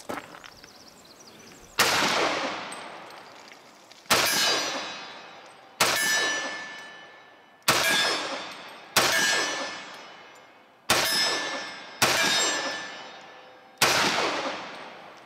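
Eight shots from a Dan Wesson Specialist 1911 pistol each ring off steel targets, sharp loud cracks followed by a decaying metallic clang, spaced roughly one to two seconds apart.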